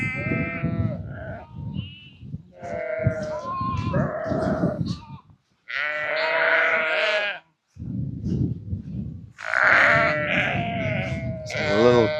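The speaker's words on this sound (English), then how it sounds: "Sheep just hear the gate going now." Sheep on a farm bleat loudly and close by, several long wavering calls overlapping one another with short gaps between them.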